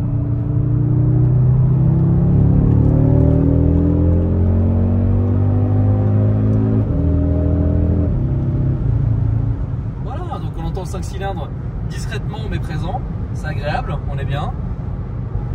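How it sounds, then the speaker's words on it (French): An Audi RSQ3 five-cylinder engine in sequential paddle-shift mode, loud rising harmonic drone through upshifts in the first half, then a lower cruising rumble with talk over it. "On se met en mode palette, donc en mode séquentiel ici. Ah, voilà le 5 cylindres."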